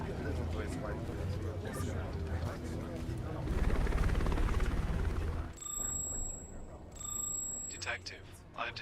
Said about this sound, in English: I have detected the arrival of a Metropolis Bureau of Investigation helicopter.